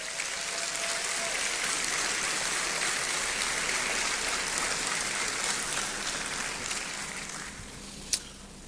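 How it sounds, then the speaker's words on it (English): Sustained audience applause at a Ghanaian citizenship ceremony welcoming the diaspora, a steady even patter of many hands throughout with one sharp clap or knock near the end. "Please help me appreciate him with another round of applause."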